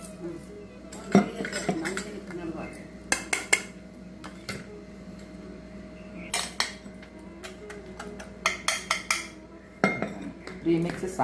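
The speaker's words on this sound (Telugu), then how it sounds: "నరసమ్మ బెల్లం దంచి" Jaggery is pounded by hand in a home kitchen, with irregular clusters of sharp metallic knocks and clinks, some loud and close, against a low background hum.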